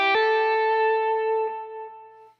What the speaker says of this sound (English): you could use a hammer-on, it would sound like this